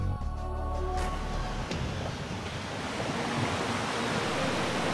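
Sea waves washing against the shore at Tarragona, a continuous broad roar of surf with steady loudness throughout, lower rumble and some tonal background sound at the very start.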